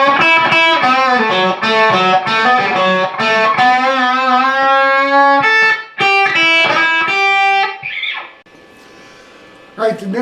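A Stratocaster electric guitar with no whammy bar plays part of a song's solo: loud, distorted sustained notes with heavy hand vibrato wavering the pitch, a few short picked phrases and brief pauses.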